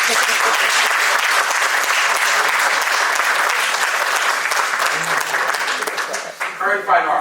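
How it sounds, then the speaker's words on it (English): Audience at a public art talk breaking into sustained, dense applause that holds steady for several seconds, then thins out as a voice begins speaking near the end. "Please give this lady a round of applause, please."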